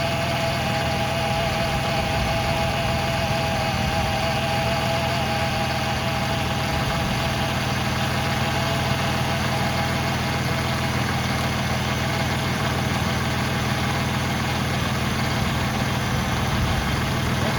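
A Ford Freestar minivan engine runs steadily at idle with a newly replaced power steering pump working, a constant near drone with a faint whine above it and no talk.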